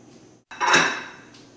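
A metal pie pan is lifted from a kitchen counter during apple pie baking, giving a single brief metallic clatter and scrape after a short pause, fairly close and moderately loud, with no talking.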